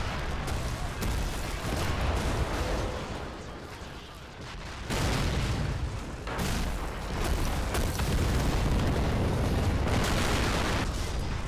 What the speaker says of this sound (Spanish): Esta explosión brutal la vamos a lanzar aquí.